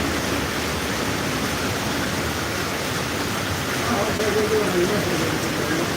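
Rain falls in a dense, steady broadband patter, close and continuous, with a faint voice briefly audible beneath it.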